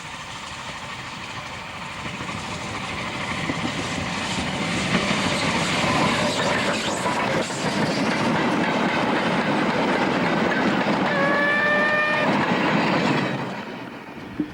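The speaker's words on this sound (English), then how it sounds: "the fully restored engine hauled a test train to Peterborough" A fully restored railway engine hauls a test train toward Peterborough on a heritage line, a loud, steady rumble of wheels and carriages rolling past, with a brief metallic squeal near the end before fading.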